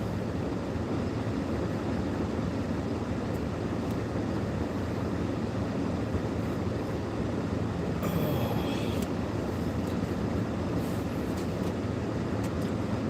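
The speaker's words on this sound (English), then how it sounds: "Man, this is some train." A passing train gives a steady broad rumble and roar throughout, fairly distant and even, with a brief higher metallic squeal midway and no talk.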